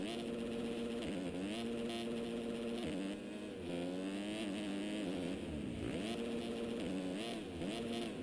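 Motorcycle engine in the MX Simulator racing game during a 250 main event, revving and shifting continuously with rising and falling pitch sweeps as the bike is ridden around laps, loud and steady with a voice talking over it.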